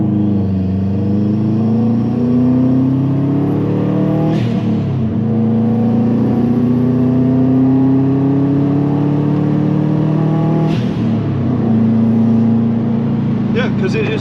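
A Subaru WRX accelerates hard under turbo boost, heard from inside the car. The engine drone rises steadily and drops briefly at two gear shifts before climbing again.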